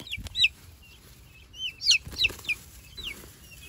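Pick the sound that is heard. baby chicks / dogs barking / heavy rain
baby chicks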